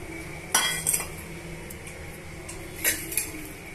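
Dry fruits tipped into hot ghee in a pan for semiya kesar, with a couple of clattering metal clinks of pan and spoon against a low steady kitchen hum, no voices.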